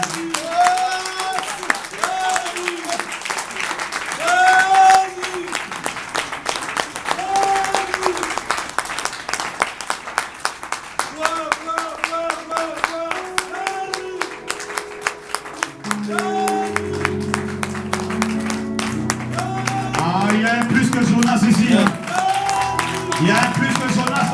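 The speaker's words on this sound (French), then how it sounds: "Est-ce qu'on peut acclamer le Seigneur pour cette parole?" A church congregation in Brussels applauds to acclaim the Lord, with sustained, loud crowd clapping rising in intensity alongside voices, shouts and music throughout.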